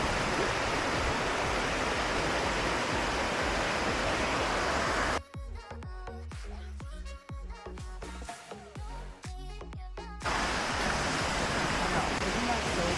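Water from a waterfall pours down over a rock formation on a hike as a steady, loud broadband rush. The rush cuts out abruptly for several seconds midway, then returns just as strongly.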